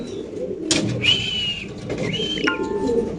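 A pair of black stretcher pigeons coo at a pigeon farm, soft low calls mixed with a few short whistled notes close by, with no talking.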